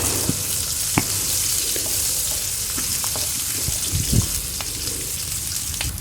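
Green chillies and onions fry in a pan for pineapple vegetable rice, an even close sizzle with a few sharp pops and light stirring clicks.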